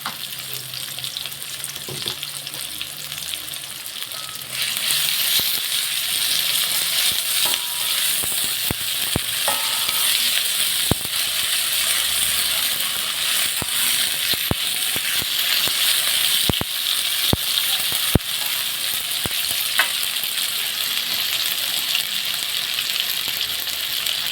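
Garlic and ginger paste frying in a pan, a steady wet sizzle that rises and stays loud and close after a few seconds, with occasional clicks and scrapes of stirring throughout and no talk.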